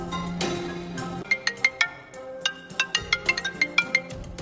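An incoming call sets off a phone ringtone: a bright melodic pattern of short, evenly spaced tones that repeats in quick sequence over a faint background.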